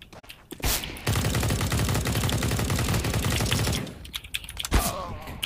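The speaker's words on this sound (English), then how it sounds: "Man, I shot him the entire clip." A full magazine is emptied in CS:GO as a long rapid burst of gunfire lasting about three seconds, loud and close. Scattered single shots follow.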